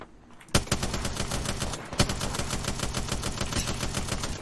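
A gun sprayed on full auto in Apex Legends: a fast, steady rattle of closely spaced shots runs almost without a break after a brief quiet start, loud and close, with no talking.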